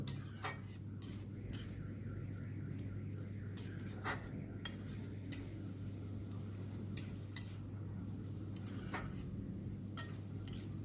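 Repeated clinks and scrapes of a utensil sound against a pan as mustard paste is stirred into Malabar spinach, over a steady low hum of background noise.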